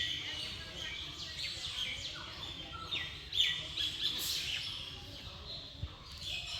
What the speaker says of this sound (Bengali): আর হাজার হাজার পাখির কিচিরমিচির শোনা যাচ্ছে এখানে।